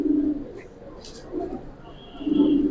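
Male pigeons of the Jabra Pankhi Giribaz breed coo in low, throaty rolling bursts at close range, with a soft background hum and no clear talk over it.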